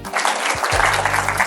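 Schoolchildren clap together in a classroom at a school in Olmaliq, a short burst of dense, steady applause that fills the room, with a low hum underneath.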